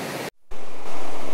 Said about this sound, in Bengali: ও এই কারেন্টটা দেখুন জলের